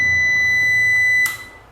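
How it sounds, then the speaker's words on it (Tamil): Computer UPS switched on, giving one sustained high electronic beep that holds for just over a second and then cuts off with a brief click, close and alone. "சின்னதாக வந்து பார்த்தீங்கன்னா பீப் சவுண்ட் ஒன்று வந்துச்சு."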